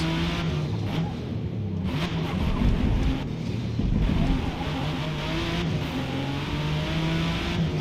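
A Ford GT40 race car engine in Forza drones with rising and falling revs, steady and fairly loud throughout, with gear shifts breaking the tone.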